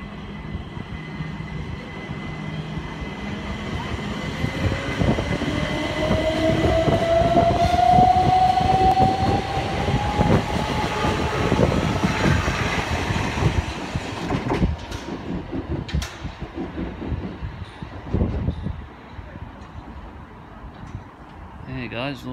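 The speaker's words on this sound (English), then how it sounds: "Southern service now leaving to Brighton." A Southern train pulls out of Southampton Central bound for Brighton, a steady rolling rumble with rising motor whine building to a peak mid-passage, then easing as it draws away, with voices audible in the background.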